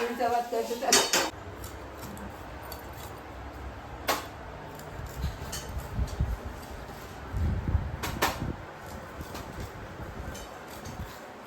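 Knife and metal clatter in a home kitchen as a whole pomfret fish is cut into pieces, with sharp chopping knocks and scraping against a plate or pan, some faint low rumble beneath.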